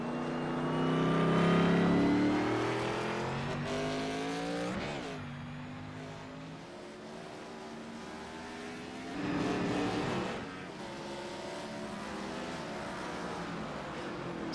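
Race cars lapping Sonoma Raceway, engines rising and falling through gear changes as they pass, with a louder swell near the start and another mid-way, heard at moderate distance.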